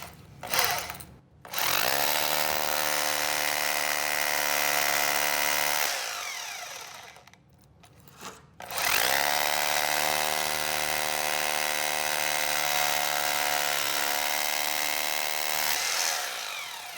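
A power drill bores 1/4 inch holes into masonry for plug anchors while a pocket door frame is installed, two long loud high-pitched whining runs separated by a short pause.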